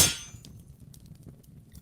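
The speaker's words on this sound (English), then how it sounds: "Smashed my mirror there." A sword smashes a mirror in the VR game Blade and Sorcery: one sharp, bright crash at the start, fading quickly into a low, quiet rumble.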